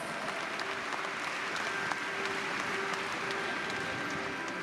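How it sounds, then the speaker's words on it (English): Sustained applause from a large audience fills the hall at the opening ceremony of the IFFI film festival in Goa, a steady dense wash of clapping at moderate distance with no pauses. "a big round of applause"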